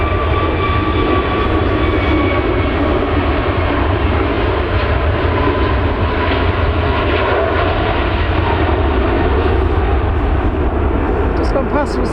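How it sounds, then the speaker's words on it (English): A Jet2 Airbus A321neo bound for Paphos roars steadily past at Manchester Airport, a loud, continuous broadband engine rush that holds throughout. "Just gone past was the Jet 2 going to Paphos, Airbus A321neo."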